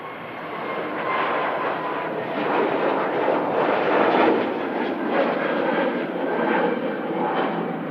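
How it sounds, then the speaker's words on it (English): A Turkish Airlines airliner departs Manchester Airport, its broad engine roar rising and swelling steadily at a distance before easing slightly, with no voices present. "Turkish Airlines heading out to Istanbul next."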